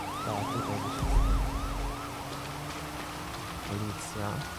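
Police car siren in a video game, a rising-and-falling wail repeating several times in the first half, then fading, over rain-like noise and a low hum, with brief game sounds later.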